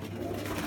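Domestic pigeons coo in a short, low, throaty burst, close and fairly loud.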